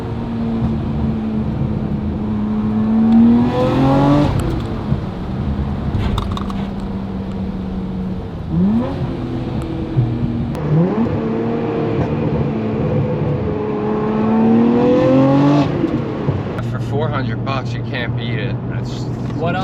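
A Nissan R34 GT-R with valved mufflers open revs and accelerates through several gears, engine pitch climbing and dropping repeatedly with some exhaust popping on lift-off, heard from inside the car with people talking over it throughout.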